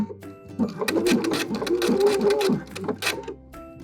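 A sewing machine stitches trim onto fabric, its needle running in a steady, close mechanical chatter with brief pauses and changes of pace throughout.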